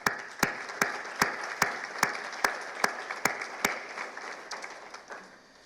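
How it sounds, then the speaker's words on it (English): An audience at a small-business development centre event applauds in a round of clapping, with sharp distinct claps that fade toward the end. "we should take a moment to just celebrate their participation with a round of applause"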